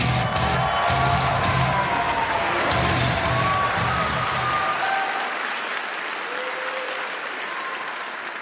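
Steady applause from a convention panel audience fills the scene, loud at first and gradually thinning out, with a few faint tones drifting through.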